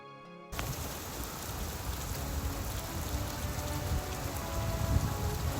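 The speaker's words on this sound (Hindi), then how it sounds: "इस साल बेमौसमी बारिशें शुरू हो जाती हैं।" Unseasonal rain sets in after a moment of near silence, then falls as a steady, even hiss of drops that grows slightly heavier toward the end; no talking.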